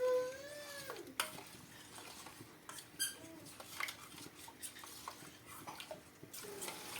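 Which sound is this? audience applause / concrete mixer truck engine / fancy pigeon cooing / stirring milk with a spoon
stirring milk with a spoon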